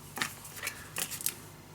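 Scissors snip through paper while a mini album is being made in a storage box: three or four short, crisp cuts spaced unevenly, close and fairly quiet, with no talking.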